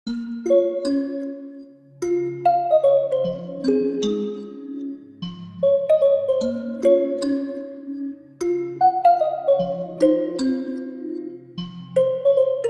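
Plucky, bell-like synth notes bounce through a looping melody in a sad style, smeared by echo and reverb, with a soft low pad underneath; no one speaks.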